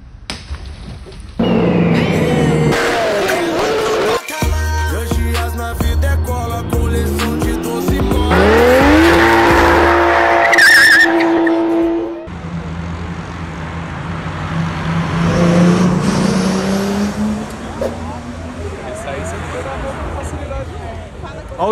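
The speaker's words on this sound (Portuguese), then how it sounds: "Ela deu fuga e saiu acelerando." A car fleeing police on a São Paulo street revs hard and accelerates away with tires squealing, engine pitch climbing loudly before fading into traffic noise, with people talking excitedly over it.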